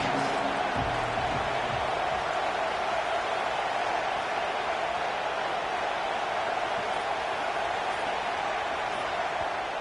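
Steady stadium crowd roar from a college football video game, South Florida versus Arkansas, a dense continuous wash of noise held at an even level throughout, with no distinct cheers or voices standing out.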